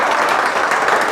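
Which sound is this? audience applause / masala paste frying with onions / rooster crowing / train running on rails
audience applause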